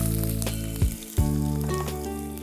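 Chopped onions dropped into hot oil in a pan, loud steady sizzling with a brief stirring disturbance partway through, close and continuous with no talk.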